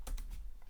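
Quick keystrokes on a computer keyboard, a few close, soft clicks in a short burst with no talking.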